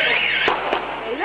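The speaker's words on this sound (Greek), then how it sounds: "οι πυροβολισμοί ακούγονται καθαρά στο βίντεο ντοκουμέντο" Gunshots during the December 2008 Athens incident: two sharp reports about a quarter second apart, cutting through a dense wash of street noise and voices.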